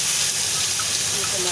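Spice paste hitting hot oil in a pan while cooking Bengali dhokar dalna, giving a steady broadband sizzle and hiss that holds evenly throughout, close and continuous.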